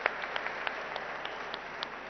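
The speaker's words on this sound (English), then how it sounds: "deserves a huge round of applause to the entire team of Shankara" A crowd claps in a steady patter at the Shankara eye hospital inauguration in the Financial District, honoring the hospital team. The applause sounds fairly faint and distant, with a few sharper claps standing out.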